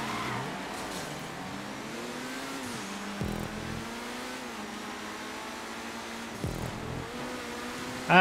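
Swinger car in GTA 5 racing, its mid-pitched engine revving and climbing through gears, with two brief shift dips and a loud burst at the very end.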